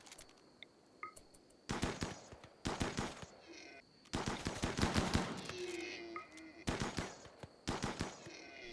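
Distant rifle and automatic gunfire from hunting gazelles in the colony game RimWorld, arriving in several short rapid volleys separated by brief gaps, crisp but faint overall.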